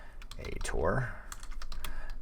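Close-up typing on a computer keyboard while working through a Python coding tutorial: a quick run of clattering keystrokes with a brief tonal sweep partway through.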